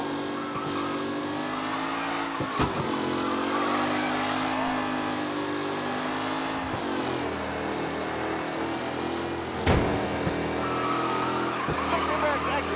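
Race cars in the video game Mafia roar past in a steady, loud drone of revving engines with shifting pitch, tires occasionally squealing, while a commentator's voice talks over the racket.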